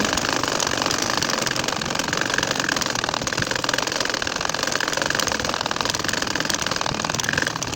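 A machine stitches a nakshi kantha quilt, giving a dense, steady mechanical whir with rapid rhythmic needle pulses that run loud and unbroken from start to finish, with no voices.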